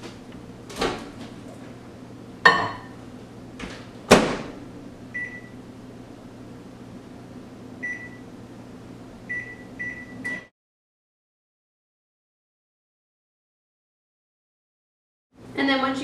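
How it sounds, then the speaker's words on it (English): A microwave oven hums steadily while cooking a mug cake, with a few clunks and knocks near the start and some short beeps, then it cuts off into silence before a later sound. "I'm going to pop this into the microwave for about 70 to 90 seconds"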